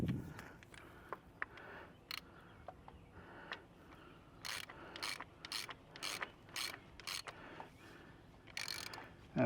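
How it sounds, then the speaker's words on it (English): A ratchet tightens the oil drain plug on a Ford Bronco, giving quiet clicking bursts that start sparse and grow into repeated runs of close, crisp clicks. "I'm taking it down as much as I can by hand before I put the ratchet in."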